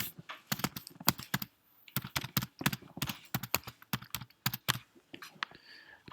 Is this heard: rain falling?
no